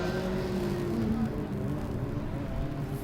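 A Formula Student race car drives an autocross course at a 2012 competition, its engine a steady, fairly distant drone with some tonal revving, and no clear voices over it.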